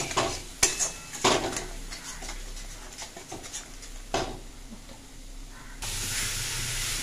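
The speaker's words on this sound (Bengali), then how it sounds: "এটাকে ভালো করে ফ্রাই করতে হবে।" Tengra fish masala for a Korean-style curry fries in a pan with a soft hiss, while a spatula scrapes and knocks against the metal; a louder sizzle rises near the end.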